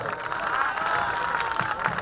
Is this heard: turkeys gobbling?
no